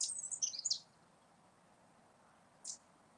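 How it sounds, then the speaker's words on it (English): A tiny wren in ancient woodland gives a quick burst of very high, sharp zit notes, followed after a quiet pause by one more short call, faint against a calm, hushed outdoor background. "That zit noise is a tiny little bird that big."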